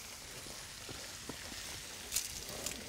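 A côte de boeuf sears in a hot pan, giving a soft, continuous sizzle and hiss with a few small spits and pops, heard faintly and without talk.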